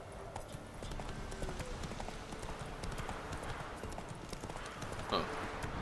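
Roach, the horse in the Witcher 3 video game, trots with a steady clip-clop of hooves over a low ambient bed, quiet and continuous, with a brief snort or whinny near the end.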